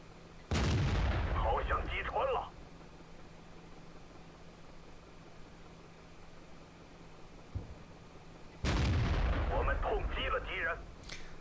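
Two loud tank cannon shots from World of Tanks boom several seconds apart, each a sharp blast followed by a rumbling, crackling tail. Commentary runs faintly underneath.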